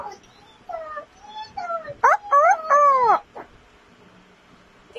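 A rooster gives a loud crow nearby, with a few shorter calls leading into it over a quiet background.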